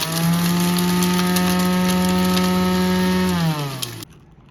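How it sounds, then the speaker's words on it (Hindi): A small electric chopper grinds edible gum (gond) for panjiri, a loud, close, steady motor whine with a gritty rattle that holds evenly, then drops in pitch as it winds down and stops near the end. "हमारा चापर इतना बड़ा नहीं है तो इसको हम ग्राइंड कर लेते हैं"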